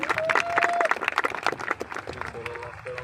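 Audience applause at a large speech event in Lucknow, dense rapid clapping from a crowd that swells and then thins out, with a voice talking over it.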